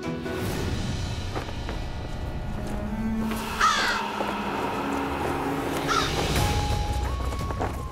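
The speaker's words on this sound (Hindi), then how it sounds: "ये कौवे जब भी इस घर में आते हैं कोई ना कोई मुसीबत लेकर जरूर आते हैं।" Crows caw around a house, a few harsh calls cutting through a steady background hum with faint tonal music underneath.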